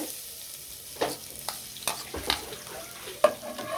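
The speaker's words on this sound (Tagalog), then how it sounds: "At kapag mainit na ang ating mantika, ay ilagay na natin ang ating bawang." Garlic sizzles in hot cooking oil in a pan, a steady frying hiss broken by several sharp stirring scrapes and clinks. The sound is close and plays alone, with no voices.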